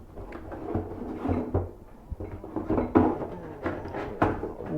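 Cardboard and packaging rustle and thump as a box holding new trim hardware, including a handle, is opened, with several uneven handling noises and no talking.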